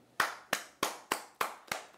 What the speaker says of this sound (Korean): 이 시점에서 박수